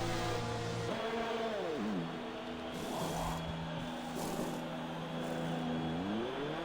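An AlphaTauri F1 car in F1 2020 pulls into the pit lane at Bahrain, its engine dropping to a steady, limited hum with pitch sweeps as it slows and then rises again. The engine note is close and carries on alone.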